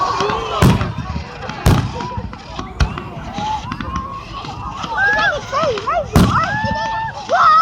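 Canada Day fireworks in Saskatoon explode in a series of loud, sharp booms spaced a couple of seconds apart, with whistling rockets and an excited crowd talking and exclaiming throughout.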